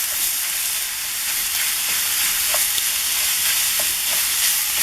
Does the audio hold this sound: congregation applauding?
no